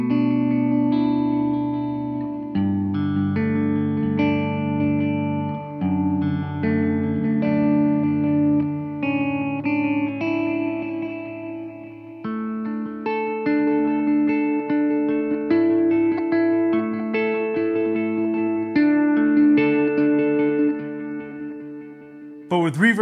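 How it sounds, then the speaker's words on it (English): Electric guitar notes ring out through a spacious dual delay effect, each phrase echoing and overlapping into a thick, sustained wash; no voices. "I set it up for a dual delay"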